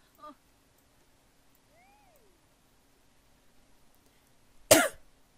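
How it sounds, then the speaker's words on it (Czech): Two short coughs, a faint brief one at the start and a loud harsh burst near the end, separated by near-silence with a soft tonal chirp in between. "se omlouvám, já mám kašel trošičku ještě pořád."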